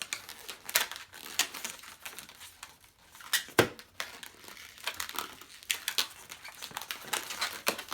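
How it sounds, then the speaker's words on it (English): A latex modelling balloon being folded and pinch-twisted into bubbles for a balloon bow and arrow: repeated squeaky, rubbery crinkles and sharp twisting squeals, close and fairly quiet, with no talking. "Fold it over and pinch twist."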